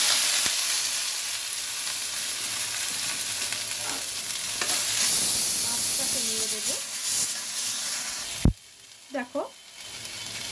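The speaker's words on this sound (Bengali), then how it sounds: "জিরে লঙ্কাটা ভাজা হয়ে গেছে, খুবই কম তেলে করছি" Leafy greens fry in a little oil with cumin and chilli, giving a close, hissing sizzle broken by stirring scrapes, followed by a sharp clank and brief quiet talk near the end.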